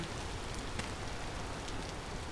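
Steady, dense rain falls in the Vintage Story video game, a constant broadband hiss of drops with faint scattered patters, even and unbroken throughout.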